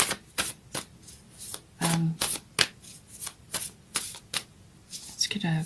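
Tarot cards shuffled by hand in a string of quick riffling bursts with short pauses between them, fairly close and crisp, with a brief low voice sound in the middle.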